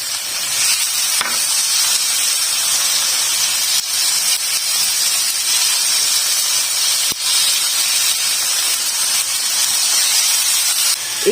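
Chicken and onions sizzle steadily in hot oil, a continuous bright hiss of frying that holds evenly throughout with no talk.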